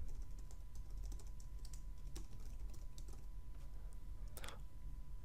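Soft, rapid keystrokes on a computer keyboard tap out an email address during account setup in Outlook 2013, a quiet, close patter of clicks over a low steady hum.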